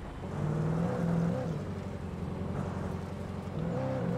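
A car drives in the video game Alan Wake Remastered, its engine holding a steady, moderately loud hum with slight pitch shifts as it cruises, continuous and close, with no voices over it.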